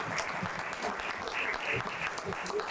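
An audience at a Cleveland Ward 5 State of the Ward meeting keeps clapping for their councilwoman: a steady, moderately loud patter of many hands, with faint voices and cheers mixed into the clapping.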